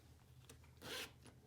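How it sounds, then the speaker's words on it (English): Vinyl zipper pouch zipped open or shut, a single quiet rasping zip lasting under a second, with a few faint rustles of the vinyl before and after. "Zipper works great."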